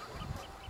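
A brief, faint honk of geese, soft and somewhat distant, lasting under a second.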